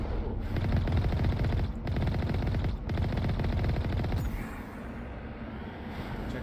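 Rapid automatic gunfire in the Mass Effect video game, a dense, loud, continuous burst with brief gaps, easing to quieter game ambience near the end.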